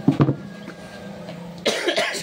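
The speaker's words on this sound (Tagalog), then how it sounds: "Meron tayong ubo." A single person coughs a few times at close range, a short burst followed by quieter room noise and then another rough cough, heard while repairing an Asahi stand fan.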